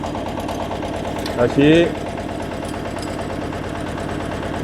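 A Korean two-wheel power tiller engine thrums steadily and loudly at close range while its clutch is engaged, a constant rhythmic chugging throughout, with someone speaking briefly over it.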